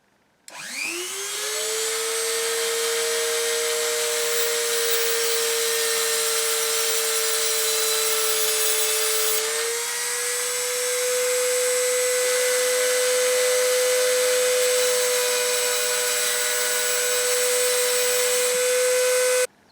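A steady, loud grinding whine holds for about twenty seconds as a tungsten electrode is ground to a point for TIG welding, with a slight pitch shift midway and no talking.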